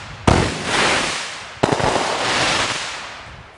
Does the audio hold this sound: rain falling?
no